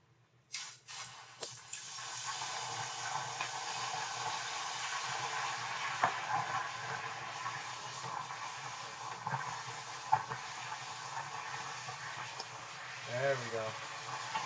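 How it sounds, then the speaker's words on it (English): Water thrown into a hot pan while cooking shrimp scampi, giving a broad, steady sizzle and steaming hiss that holds for the whole stretch, with a few small clatters over it. "So what we're going to do here is we're going to actually throw some water in there."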